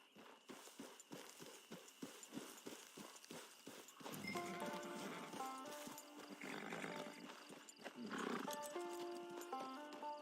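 Horse hooves clip-clop in a quick rhythmic run, then a horse whinnies and snorts over a swelling musical score in the Red Dead Redemption 2 Online western video game, the sounds fairly faint and in the mid-distance.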